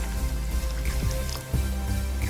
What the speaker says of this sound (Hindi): 2 गिलास पानी ऐड करेंगे।